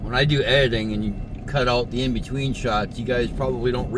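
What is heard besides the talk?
No everyday noises stand out.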